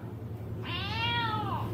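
A single drawn-out cat meow rises and falls over a steady low hum, clear and fairly close.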